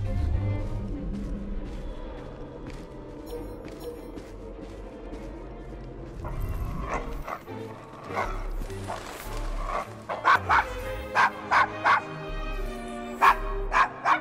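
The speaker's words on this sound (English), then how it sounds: "Is your dog quite all right?" A dog barks repeatedly in the Assassin's Creed Syndicate video game, loud, close bow-wows in a rough Victorian London street, over rumbling ambience, with voices talking in places.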